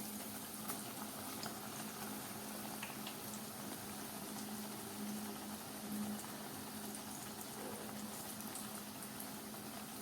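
Kharkhariya deep-frying in hot oil give a steady, dense bubbling sizzle that holds at an even, fairly quiet level throughout, with no voices.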